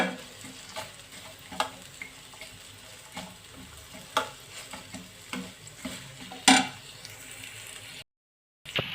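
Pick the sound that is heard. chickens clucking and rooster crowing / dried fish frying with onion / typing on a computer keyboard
dried fish frying with onion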